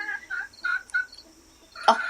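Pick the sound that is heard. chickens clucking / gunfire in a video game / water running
chickens clucking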